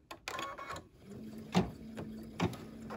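A machine embroidery unit stitches a quilting design in white thread on a mug rug held in the hoop, producing a faint, low mechanical hum broken by two soft thumps.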